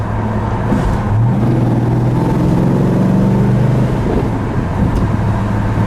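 A 1969 Dodge Charger R/T's 440 V8 engine rumbles loudly and steadily nearby, its deep idle briefly rising in pitch before settling back into a constant throaty drone.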